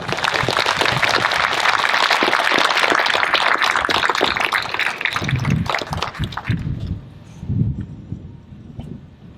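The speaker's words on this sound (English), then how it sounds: "So would you just join me for one more round of applause?" Outdoor round of applause from a crowd at a sheriff's department POW/MIA ceremony, dense clapping for about six seconds with wind and rustling, then tapering into scattered claps and low noise.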